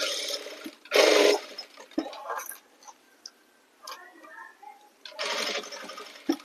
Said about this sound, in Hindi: इसकी सिलाई यहाँ से इस तरीके से रखते हुए हमें सिलाई लगानी है